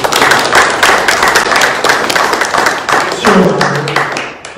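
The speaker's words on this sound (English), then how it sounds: "Let's give them a round of applause." An audience at a university speaker series on horse racing applauds a panel after their discussion, with dense, loud clapping that holds steady for about four seconds and then fades out.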